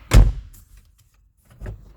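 A car door is shut after its inner door panel has been refitted along with the window motor and regulator: one loud, close thunk, then a softer clunk about a second and a half later, with no talking.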